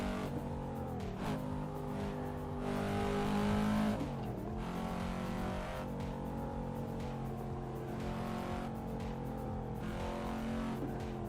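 Continuous racing car engines in a racing simulator game drone and rev at moderate volume, with shifting pitch as the cars accelerate, steady throughout without pauses.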